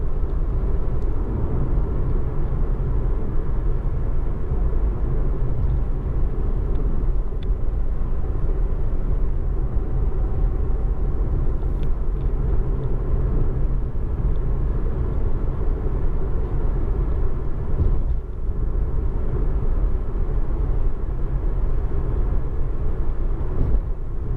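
A car driving along the M5 motorway near junction 14, heard from inside as a steady low engine and road rumble with constant tyre noise, unbroken and fairly loud, no talking.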